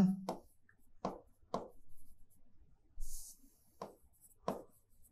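Chalk or pen strokes writing out maths working on a surface: a series of distinct scratchy strokes about every half second to second, fairly close and alone without speech.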